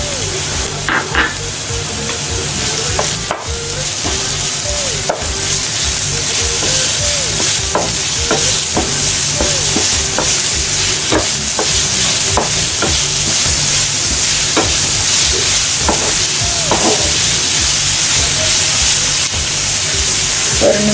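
Onions with ginger-garlic paste sautéing in a pan for mutton liver masala, a steady close sizzle with intermittent stirring scrapes and clicks running throughout, no talking.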